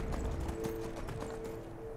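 Quiet, steady clip-clop of a horse's hooves trotting in the video game Skyrim, a regular rhythm heard faintly and alone.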